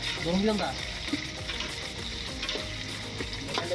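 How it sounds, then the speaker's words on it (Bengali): Chopped onion frying in hot oil for a picnic duck curry, a steady close sizzle with brief scraping and stirring clatter near the start, no talking. "গরম হওয়ার পর ভেজে নিচ্ছি পেঁয়াজ কুচি।"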